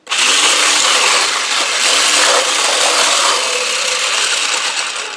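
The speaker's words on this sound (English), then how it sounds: "So I have my hand blender ready." A hand blender whirs through egg to froth it for gluten-free, nut-free banana oat cookies, a loud, close, continuous motor buzz that starts abruptly and runs steadily without pause.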